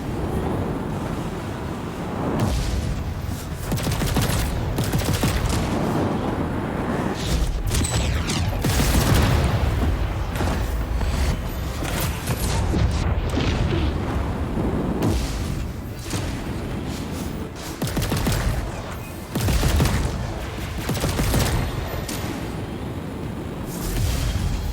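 Spaceship gunfire rattles through a space dogfight in the game Chorus, dense repeated blasts and booms over a constant roaring engine rush, loud and continuous with no talking.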